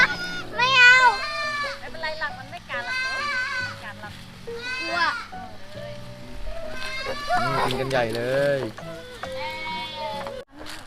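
Goats bleat repeatedly on a goat farm in Sukhothai province, Thailand, with several loud, wavering cries close by while people talk among them.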